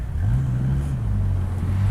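A Dodge Viper RT10 V10 engine drones low and steady, a throaty rumble with a slight rise in pitch, close and continuous with no talking.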